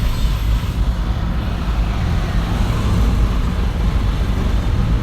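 Heavy road traffic in Quezon City heard from inside a moving vehicle, a loud, steady low rumble of engines and tire noise filling the whole stretch without talk.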